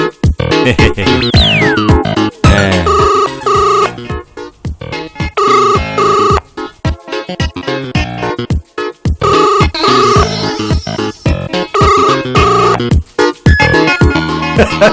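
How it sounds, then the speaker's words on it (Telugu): A loud phone ringtone plays a repeating electronic melody in regular bursts with short gaps, close and continuous for the whole stretch. "ఆడు ఫోన్ ఎత్తట్లేదు కదా"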